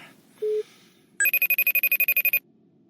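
A FaceTime video call rings on a phone: one short tone, a brief pause, then a rapid run of about a dozen loud, evenly pulsing beeps, clean and alone.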